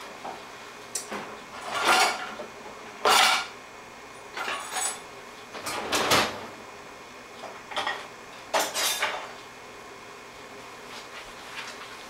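Kitchen utensils clatter on a hard surface: a large knife and chopping board set down and handled in irregular knocks and scrapes, close by, without talk.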